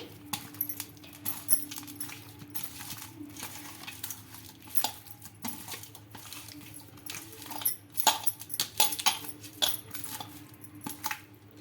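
Fish pieces tossed with oil and masala for a fish curry (pulusu) make soft, wet mixing sounds and irregular clinks and knocks against a dish, close by with no talking.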